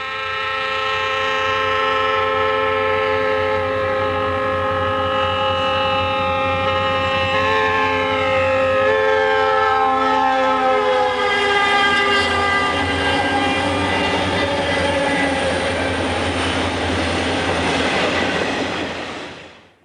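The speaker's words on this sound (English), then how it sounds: "A Union Pacific SD40-2 leads both a Screamin' Eagle and a Canary on a southbound at Mount Vernon, Illinois" A Union Pacific SD40-2 locomotive leads a southbound train at Mount Vernon, Illinois, sounding a loud, sustained multi-tone horn over the heavy rumble and clatter of the passing train, which fades out at the end.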